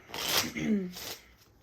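A deck of cards being shuffled, a short, close riffle lasting about a second, fairly quiet and heard alone.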